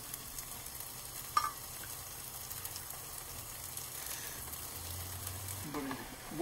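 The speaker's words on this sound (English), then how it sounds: "We're gonna let the water sizzle" Faint, steady sizzling crackles as hot water sizzles in a hot pan while cooking mushroom risotto, with a soft clink partway through and low background hum.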